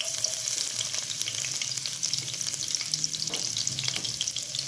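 Chopped garlic sizzling in hot oil in a pan while preparing restaurant-style Chinese fried rice, a steady close crackling hiss with faint stirring, no voices.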